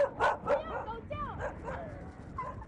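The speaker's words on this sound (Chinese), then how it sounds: "不要狗叫" A dog gives a few short, high yips and barks close by, mixed with people talking nearby.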